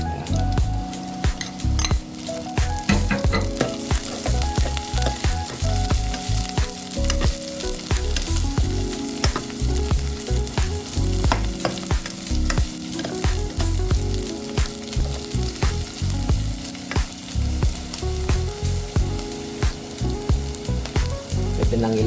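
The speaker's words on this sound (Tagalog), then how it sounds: "Lagay na natin ang ating sibuyas." Onions fry in a hot pan with a loud, steady sizzle, while a utensil stirs and scrapes against the pan with repeated clinks throughout.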